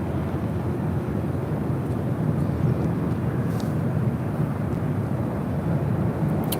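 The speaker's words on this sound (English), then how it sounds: "Next arrival on the north side is Delta Airlines flight 2272 coming from SFO. An old Northwest A320." Delta Air Lines Airbus A320, an older ex-Northwest jet arriving from SFO, lands at LAX as a soft, distant, steady rumble that stays even throughout with no voices.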